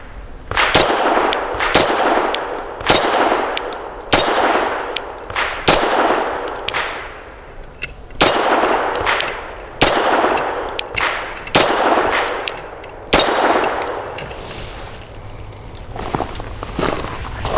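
Grand Power LP380 pistol firing 95 grain Blazer brass .380 rounds, a string of about ten sharp, loud shots at an uneven pace, each with a ringing tail, with faint clinks between them.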